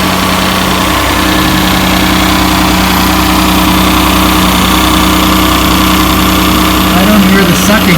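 A Ford Probe GT engine, due for new valve cover gaskets, runs at a steady, loud idle with a constant low drone and faint mechanical vibration throughout, and no distinct starting crank is evident.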